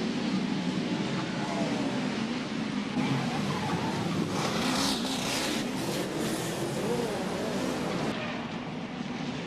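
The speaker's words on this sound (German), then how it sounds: "Vor der Nordkehre muss zur Verkehrsberuhigung auf Stadttempo 30 heruntergebremst werden." Touring race cars of the 1991 DTM season brake hard into the Nordkehre at Zolder, a dense, continuous roar of engines and passing cars with swelling surges, loud and steady throughout.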